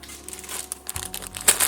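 Paper towel crinkled and crumpled close to the microphone at a chocolate tasting, a short burst of dry rustling and crackling that grows louder toward the end, with no talking.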